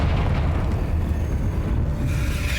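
A Confringo fire spell blasts in the Hogwarts Legacy game, a loud, dense, sustained rumble with a roaring low-end burst running the whole moment, no talk over it.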